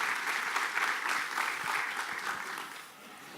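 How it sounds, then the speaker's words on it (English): An audience at a storytelling and games talk applauds a volunteer coming up on stage: a dense, steady wash of many hands clapping that eases off slightly toward the end. "A round of applause for the volunteer."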